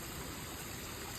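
A waterfall rushes in a steady, even roar, close and constant throughout a very short stretch, with no voices or other sounds on top.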